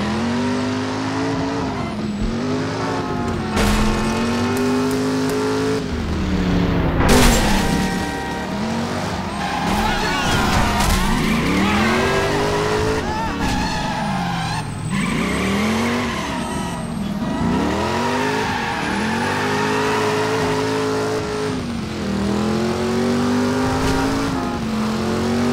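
A car driving and skidding in the Driver: San Francisco video game, with a revving engine rising and falling and repeated tire squeals, loud and continuous.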